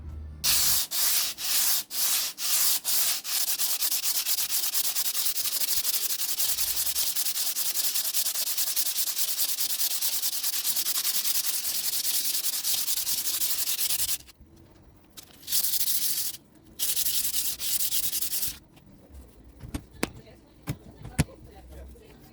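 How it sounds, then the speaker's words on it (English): Steady, continuous sanding of wood with rhythmic rubbing strokes, loud and close, then breaking into shorter bursts and pauses near the end. "And now I'm going to sand it."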